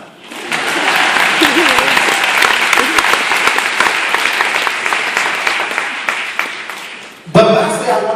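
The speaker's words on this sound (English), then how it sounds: "Y'all can clap now." Sustained audience applause fills a university graduation ceremony at UCLA, loud and steady for about seven seconds before a voice cuts in at the end.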